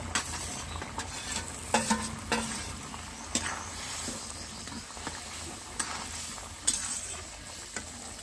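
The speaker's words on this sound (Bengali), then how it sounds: "এখন আমি ভেজে রাখা পেঁয়াজ আর ক্যাপসিকামগুলো দিয়ে দিচ্ছি" Fried onions and capsicum are stirred into a simmering chicken masala curry, with a soft ongoing sizzle broken by scattered clinks and scrapes of a spoon against the pan.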